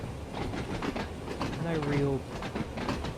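Train Sim World 2 locomotive on the Smallbrook Shuttle line on the Isle of Wight, running along the track with a steady low rumble and a brief rising tonal whine, under someone talking.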